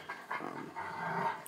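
Puppies pant rapidly and softly in a quick, continuous rhythm, close by and fairly faint, with no talking.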